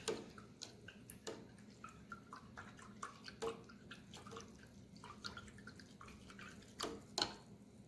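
A paintbrush is rinsed in a water cup while painting an acrylic rolling hills landscape, giving soft scattered drips and splashes with a few sharper clinks over a quiet background, no talking.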